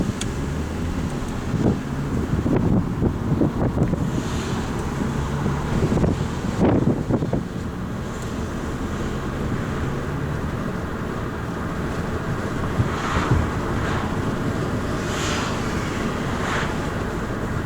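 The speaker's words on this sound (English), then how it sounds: "I don't know if maybe you guys got wind back there" Steady rushing wind through partly open windows buffets the microphone inside a moving 2012 Ford Focus SE, with a low road rumble and occasional gusts and bumps.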